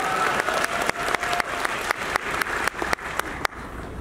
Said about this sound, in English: So you guys give yourselves a round of applause